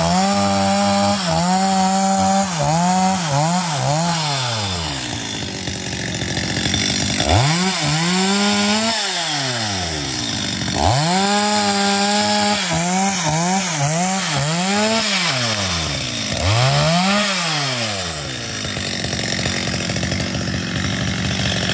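Loud chainsaw limbing a fallen tree, its engine revving up and dropping back in repeated rising and falling bursts as branches are cut, steady and close with no voices.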